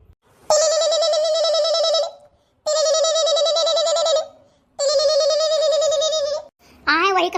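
A phone ringtone sounds for an incoming call, three long, even electronic rings separated by short pauses, followed by a brief warbling tone, loud and close with no talking.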